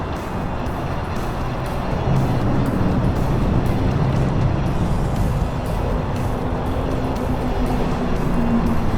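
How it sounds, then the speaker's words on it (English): Steady roar of wind and heavy freeway traffic beside a lake while bass fishing on a windy day, a dense continuous wash with no clear breaks. "Sorry about the wind noise and the loud freeway noise."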